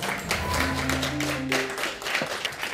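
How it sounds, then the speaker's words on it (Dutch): Audience applause for a theatre maker, a warm clatter of many hands clapping at moderate loudness, with musical tones and a voice faintly mixed in. "mag ik een warm applaus voor Jeffrey van der Ven?"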